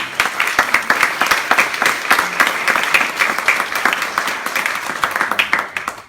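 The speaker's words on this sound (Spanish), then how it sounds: "Les pedimos un fuerte aplauso para la doctora." An audience at a book presentation breaks into steady applause, many hands clapping in a dense, continuous burst that lasts several seconds before tapering off.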